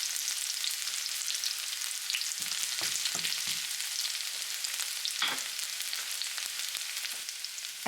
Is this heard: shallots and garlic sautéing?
yes